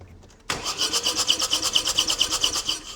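A Ford Transit engine with a wet timing belt failure cranks over with a rhythmic, rapid chugging from the starter, air puffing back out of the inlet, loud and close for a few seconds.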